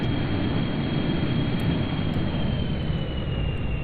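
A space plane in Kerbal Space Program roars with a loud, steady jet-engine noise, a dense broadband rush with a faint high whine, constant throughout and without speech.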